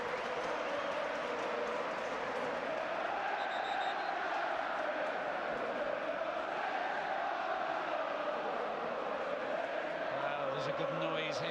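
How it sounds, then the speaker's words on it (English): A big crowd inside the stadium at the Middlesbrough v Arsenal football match in 2007 makes a steady, dense roar that swells and eases without a break, with voices murmuring beneath it. "a good noise here when there's a big crowd in like there is tonight"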